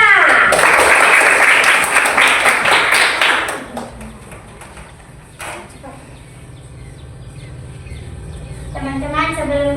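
A burst of applause from a class of schoolchildren, loud and brisk for a few seconds before fading, followed by quieter classroom noise and a voice starting to speak.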